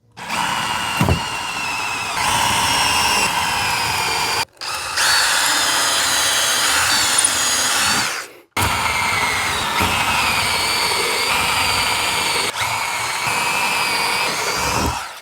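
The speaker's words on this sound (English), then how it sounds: "we'll just come in here and drill all of our holes" A power drill whirs in three long bursts with brief pauses between, loud and close, its pitch wavering as it bores pilot holes.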